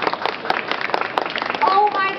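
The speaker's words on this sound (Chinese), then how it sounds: "各位请掌声鼓励一下好吗" An audience at an overclocking show at Computex 2010 claps in loud, dense applause, with voices and chatter mixed in and a brief whistle or cheer near the end.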